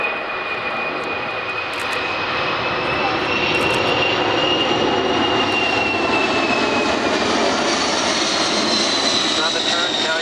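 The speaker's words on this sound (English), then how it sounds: "the aircraft is coming in on its approach" A large military cargo airlifter jet comes in to land at the Fairford air show, its engines roaring loud and sustained with a whining tone that shifts as it passes, while a commentator talks over it.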